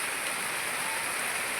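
Heavy rain pours down while floodwater fills the area, a loud, even rushing hiss with no break over a short span, no speech.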